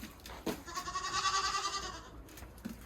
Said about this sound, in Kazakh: мына жерде бір міне Европадан әкелген альпийский ешкілер